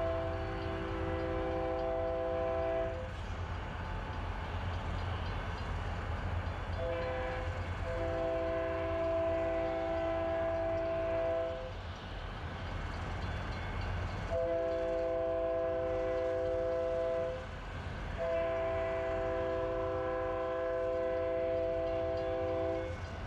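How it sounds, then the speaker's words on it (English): A loaded Santa Fe coal train departs Fort Worth, Texas, crossing Magnolia Street, sounding repeated long chords on its horn in four blasts over a steady, loud rumble of rolling railcars. "Santa Fe UFIX loaded coal train crosses Magnolia Street"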